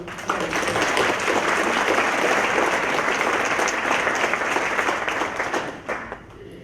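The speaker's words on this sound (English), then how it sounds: "A hand of applause" Sustained audience applause at a Holocaust remembrance commemoration, a dense, even roar of many hands clapping that holds steady for several seconds before fading at the end.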